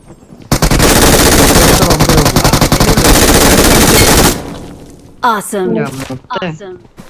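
Sustained bursts of rapid automatic gunfire, loud and dense for about four seconds, then stopping as a few voices talk over quieter game sounds.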